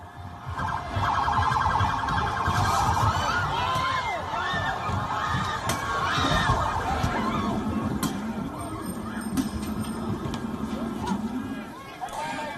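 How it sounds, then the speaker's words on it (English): A police vehicle's siren wails as it approaches a loud, agitated crowd of protesters, with shouting and babble throughout and the siren's rising and falling tones cutting through the noise. "a police vehicle approaching the crowds with sirens blaring"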